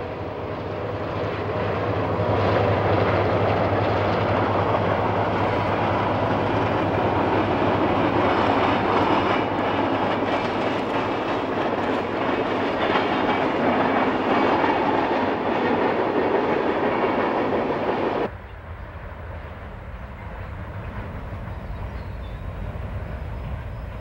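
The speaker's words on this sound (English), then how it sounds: "an eastbound soon crosses the trestle" An American steam train crosses a trestle at milepost 204, a loud, steady rumble of rolling cars and machinery lasting most of the passage, then cutting abruptly to a quieter background.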